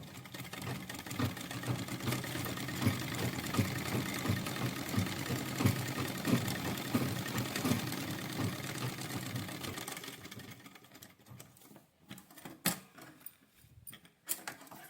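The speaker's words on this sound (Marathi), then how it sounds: "दुसरी स्लीव्ह पण आपण शिवून घेऊया" Sewing machine stitching a blouse sleeve, a steady close mechanical whirr with rapid rhythmic ticking for about ten seconds, then stopping into a few scattered clicks and handling taps.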